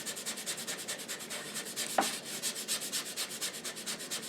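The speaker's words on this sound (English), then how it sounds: "Make sure you're sanding in the direction of the wood texture." Sandpaper rubs across wood along the grain in steady back-and-forth strokes, a soft rhythmic scratching heard up close and quietly.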